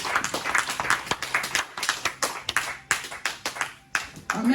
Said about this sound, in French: Acclamez la parole de Dieu